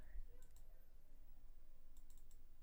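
A computer mouse double-clicks twice, a pair of quick, faint clicks early on and a couple more near the end, over a low steady background hum.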